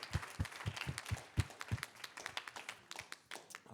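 An audience applauds at the close of a public health and safety discussion event, with a burst of sharp hand claps early that settles into steady clapping.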